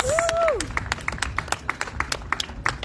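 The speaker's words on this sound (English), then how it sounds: "Let's hear some applause" Audience at a Romanian spoken word poetry festival on the Wharf in Washington applauding, with scattered individual claps ringing out over a brief voice at the start.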